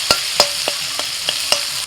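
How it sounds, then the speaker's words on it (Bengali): Chopped onions with salt fry in a pan with a steady sizzle, punctuated by about six sharp scrapes of a spatula stirring at a regular pace, close and clear with no talking. "দিয়ে দিচ্ছি পেঁয়াজ কুচি। পেঁয়াজের মধ্যে লবণ দিয়ে দিয়েছি, পেঁয়াজটা তাড়াতাড়ি নরম হয়ে যাবে"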